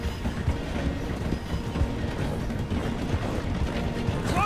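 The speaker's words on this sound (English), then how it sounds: "The train is slowing down to go through the station." A steam-era train in Red Dead Redemption 2 slows through a station, with rolling wheel clatter and rumbling carriages, plus a few brief metallic squeals near the end.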